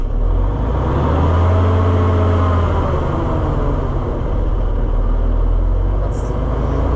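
A Ford L9000 semi truck's Big Cam Cummins 855 diesel engine idles with a loud, deep, steady rumble close by, a low throbbing drone that holds even throughout with no talk.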